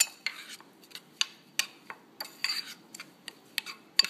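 A spoon stirs a dried thyme coating mixture in a bowl, giving a series of sharp clinks and scrapes in an irregular rhythm, close and clear with no talk.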